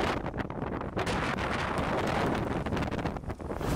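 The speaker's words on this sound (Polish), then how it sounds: "Wieje niemiłosiernie" Strong wind on the Faroe Islands buffets the microphone in loud, continuous roaring gusts, with rumbling low-end blasts and no voices.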